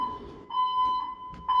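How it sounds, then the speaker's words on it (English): Building fire alarm going off at 2:22 in the morning in a residential building, a steady high electronic tone pulsing in short repeated bursts, loud and close, with faint background murmur. "So they pull the alarm at 2:22 in the morning"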